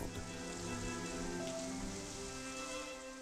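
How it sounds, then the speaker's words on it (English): Rain falling after a dry spell in a wild outdoor setting, a dense continuous patter of drops spread evenly throughout, moderately faint with no voices. "the sky opened and it rained."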